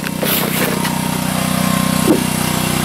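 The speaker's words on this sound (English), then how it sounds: "It's the sound of a DC generator charging my battery bank." A small engine-driven DC generator charging a battery bank at an off-grid site drones steadily and loudly, a constant low mechanical hum with a faint rattling pulse throughout.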